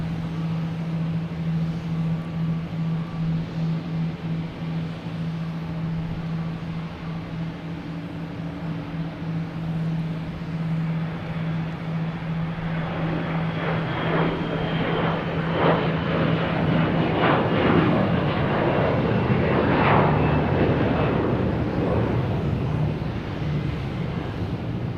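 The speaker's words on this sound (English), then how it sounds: "we have Delta and A321 heading to Atlanta" A Delta Airbus A321 jet takes off from Boston Logan Airport, its engine roar swelling from a steady distant rumble into a loud, broad rush heavy with wind buffeting, with no talking.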